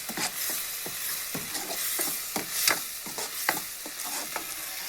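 Garlic ginger paste sizzles and fries in a pan for a mushroom curry, with repeated sharp scraping stirs of a spatula punctuating the steady crackle, close and clear with no talking.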